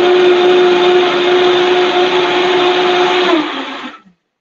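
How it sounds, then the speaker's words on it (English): A kitchen blender runs steadily at full power, blending food for a mindful meal, with a loud continuous whir and a strong motor hum before it winds down and stops. "And so now I'm going to just blend this."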